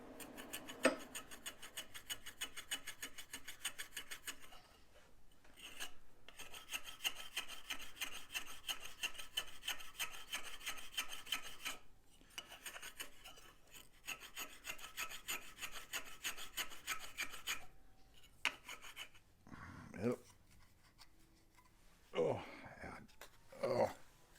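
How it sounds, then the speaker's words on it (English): A Japanese pull saw cuts wood in quick rhythmic rasping strokes, close and fairly quiet, with brief pauses. Soft voices and a few knocks come near the end. "you gotta love these Japanese pull saws"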